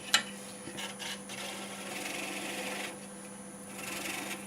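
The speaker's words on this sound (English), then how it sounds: "I'm using a spindle gouge with a pretty steep angle on it." A madrone blank turning on a wood lathe and cut with a steep-angled spindle gouge, giving a quiet steady hum under soft scraping bursts, with one sharp tick at the start.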